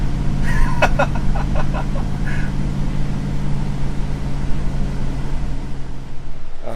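A rented U-Haul moving truck drives along with a loud, steady engine and road rumble, broken early by a short run of clicks like a turn signal.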